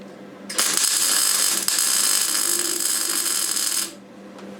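Arc welding a bead on slightly dirty metal in a garage, a steady crackling hiss that starts abruptly, holds for about three seconds and then cuts off, loud and close with no talking.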